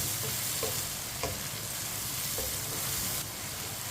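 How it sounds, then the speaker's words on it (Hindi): Tomatoes cooking in a pan over medium heat, a steady sizzle and hiss of frying with faint stirring scrapes throughout, close and continuous with no talking. "अब टमाटर को भी 2 मिनट के लिए पका लेते हैं। चूल्हे की आंच को मैंने मीडियम रखा है।"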